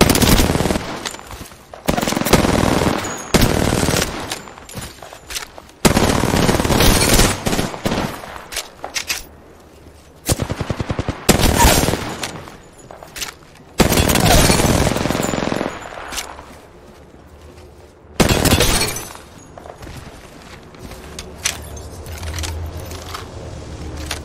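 Automatic gunfire in the video game Apex Legends, loud bursts of rapid shots separated by brief gaps, sharp and close throughout.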